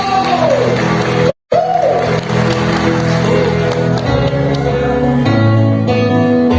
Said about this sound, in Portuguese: A Ele um aplauso bem forte nessa noite